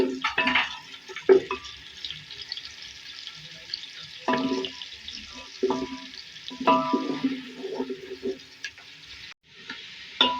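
Whole spices, black and green cardamom, black pepper and cinnamon, frying in oil for Hyderabadi aloo tahari, a soft intermittent sizzle with several stirring scrapes and clinks at irregular moments.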